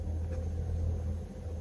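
A car rumbles nearby with a steady, low engine and road drone that stays even throughout, with no voices.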